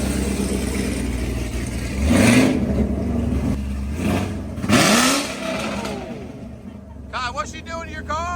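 A Camaro pulls away outdoors with two rising engine surges as it drives off, while people talk nearby throughout, and the engine fades toward the end.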